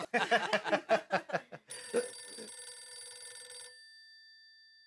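In a comedy TV show scene, a telephone rings in one sustained bright electronic burst lasting about two seconds. It follows a quick run of rhythmic percussive hits and then fades out.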